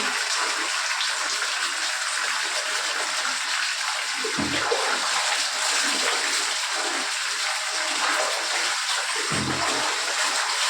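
Water gushing steadily from a tap while a dog is bathed, a loud continuous rush with a couple of brief low thuds, no voices.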